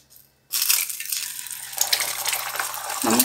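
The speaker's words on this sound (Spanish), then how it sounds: "Vamos a poner aquí mismo en el aceite nuestros huevos." Eggs dropped into hot oil for huevos rancheros burst into a loud, bright sizzle and crackle that continues steadily after a brief quiet start, with no speech.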